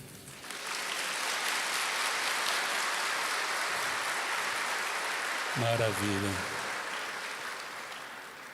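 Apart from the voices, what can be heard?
congregation clapping in cathedral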